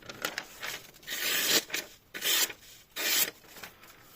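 Hand polishing of a small Yakut knife blade of Kh12MF steel, a series of close, dry rasping strokes in uneven bursts, some short and quick, others longer and sustained, with brief pauses between.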